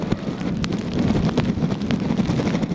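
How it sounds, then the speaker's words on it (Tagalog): Strong wind with gusting rain from Typhoon Kristine at night in a barangay of Bacarra, Ilocos Norte, a steady broad roar that surges and eases in gusts, with no voices. "Malakas na ang hangin at pabugso-bugso na ang ulan ngayong gabi"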